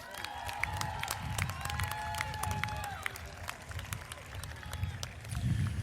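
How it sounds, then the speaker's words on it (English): A crowd at a high school graduation applauds the principals, with dense clapping and scattered cheers that carry steadily from mid-distance for several seconds. "Please give our principals a quick round of applause."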